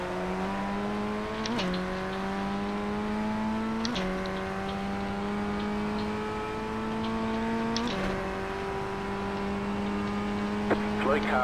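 A Formula Ford 1600 race car engine in the iRacing sim at Knockhill drones steadily at high revs, with sharp gear changes every few seconds and a faint spotter voice now and then.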